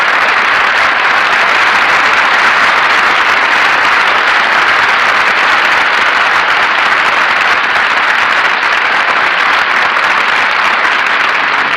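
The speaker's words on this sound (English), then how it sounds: "The applause we hear now is for our musical director, Henry Weber, as he makes his way to the con" Sustained theatre audience applause at a 1940 live radio broadcast from the Chicago Theatre of the Air, dense and steady throughout without a break, with no talking over it.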